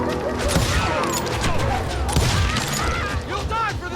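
Gunfire from the Western shooter video game Call of Juarez: Gunslinger, a dense, continuous barrage of shots and booms mixed with shouting voices and game clamor.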